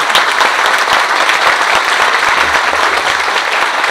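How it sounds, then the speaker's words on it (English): A large audience at a regional transportation forum in a downtown library venue gives sustained, steady applause, a loud dense wash of clapping for a few seconds. "why don't we give them both a huge round of applause for putting this event together"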